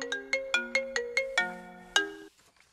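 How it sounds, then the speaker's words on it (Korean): A cheerful melodic phone ringtone plays a short run of bright chiming notes, then fades into quiet. "그런데 점심 때쯤 선식 형님한테 전화가 온 거예요."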